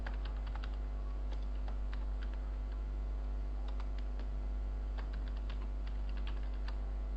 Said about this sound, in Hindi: यहाँ पे मैं डाल देता हूँ वहीद और यहाँ फादर नेम लिख दिया